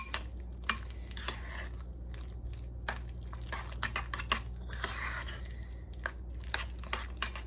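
A spoon stirs jam into a low-carb breakfast in a bowl, giving quick scraping and clinking taps against the dish in an uneven rhythm, close and moderately loud, with no talking.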